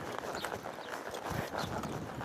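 A ridden horse turning through a corner in an arena makes soft, irregular hoof clip-clops on the ground. The steps sound fairly faint and a little distant, with some background noise and no clear talking.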